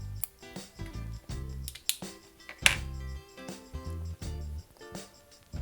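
Scissors snip embroidery thread on a wood embroidery kit, a series of sharp close clicks and cuts in irregular rhythm, about eight distinct snips with quiet pauses between.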